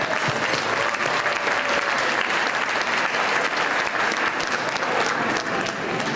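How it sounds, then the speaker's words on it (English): A crowd at an International Women's Month event applauds a group of honored women, the clapping loud, dense and sustained without pause. "Please give them a round of applause."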